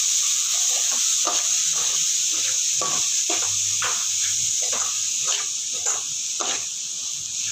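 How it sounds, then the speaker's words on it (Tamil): Semolina roasts in a pan with carrots, capsicum and curry leaves, a constant light sizzle broken by a steady rhythm of scraping stirring strokes, close and alone. "கேரட்டு எல்லாத்தையும் ஒன்றாவே போட்டுக்கலாம் ரவையும் போட்டு வறுத்துக்கலாம்"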